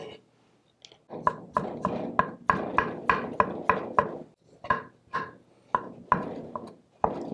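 A knife thinly slices shiitake mushrooms on a board, a fast run of close, crisp knocks with a few short pauses, steady and rhythmic in a quiet kitchen.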